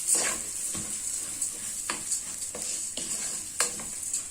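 Rice and onions frying in a pan with a continuous sizzle, punctuated by repeated light scraping and stirring clicks at an irregular pace.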